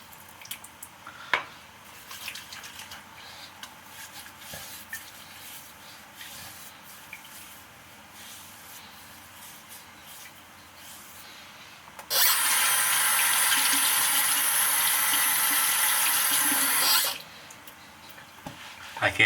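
A tap runs in a sink for about five seconds, a loud steady rush of water over hands during a wet shave, with quieter small splashes and handling sounds before and after.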